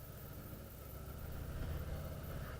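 A 2018 Harley-Davidson Softail Heritage with a 114 engine idles in a dealership setting, a steady low rumbling thrum held at an even, moderate level throughout.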